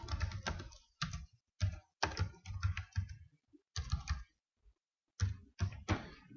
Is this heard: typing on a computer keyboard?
yes